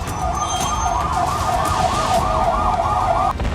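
Ambulance siren wailing in a steady, fast repeating up-down pattern through war-zone street noise in Gaza, carrying wounded fighters to hospital; loud and close, running continuously before cutting off near the end.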